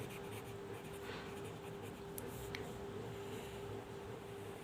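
A pen writes steadily during a Class 11 statistics lesson, giving a faint, continuous scratching over a constant low hum, with no voices.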